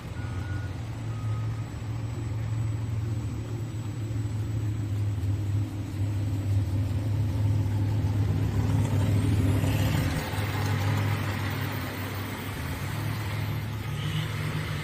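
A tractor engine rumbles low and steady at a tractor pulling event, loud and close, with a high reversing beep sounding over it and a brief rise in intensity near the end.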